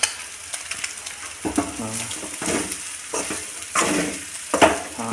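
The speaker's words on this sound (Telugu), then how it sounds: "ఇప్పుడు అన్నం వేసుకోవాలి" Egg fried rice stirred in a hot pan, a steady sizzle with repeated scraping strokes of a spatula every second or so, close and fairly loud, with no talk.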